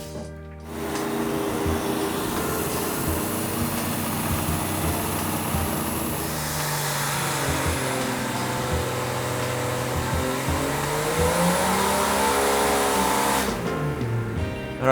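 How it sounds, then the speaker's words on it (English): Supercharged aluminum-block 1962 Slant Six engine running on an engine dyno, a steady loud roar with a whining supercharger that swells and sweeps up in pitch near the end, then cuts off abruptly. "we have our aluminum block Slant Six on the engine dyno"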